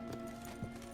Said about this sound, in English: You'll hear horses neighing before a quarter hour's out.